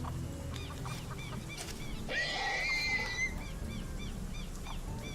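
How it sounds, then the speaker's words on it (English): A horse gives a clear whinny lasting about a second against a steady outdoor background, with faint chicken clucks heard around it. "a horse!"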